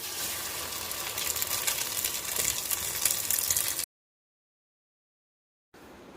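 Bombay toast sizzles in ghee or butter on a pan, a steady close frying hiss that cuts off abruptly into silence before briefly resuming.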